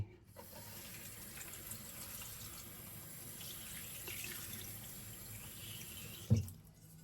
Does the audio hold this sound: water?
yes